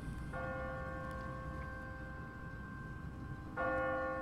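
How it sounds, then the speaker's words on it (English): An automatic church bell in the video game The Walking Dead strikes twice, several seconds apart, each stroke ringing out with a long resonant hum that fades slowly over faint background ambience. "What kind of church bell goes off at 20 past the hour?"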